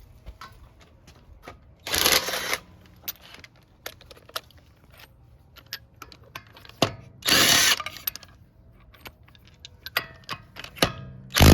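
An impact gun with a 21 socket removes a front brake bolt on a 2010 Lexus LX 570 V8, giving two loud buzzing rattles a few seconds apart amid scattered metallic clicks and clanks in a quiet garage.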